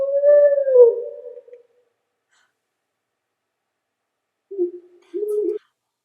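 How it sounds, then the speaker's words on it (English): An owl calling outdoors among trees after the wind has settled: a hooting call, then a pause of silence and two shorter low hoots, near and clear with no talking. "Yeah, that's an owl."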